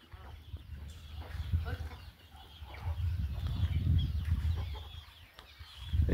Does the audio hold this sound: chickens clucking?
yes